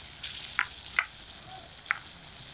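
Pieces of boal fish frying in a kadai give a soft, steady sizzle, with a few sharp pops and spatters rising above it.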